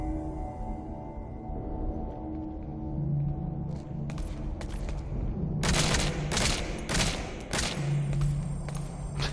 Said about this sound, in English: They're shooting everybody just to make sure everybody's dead.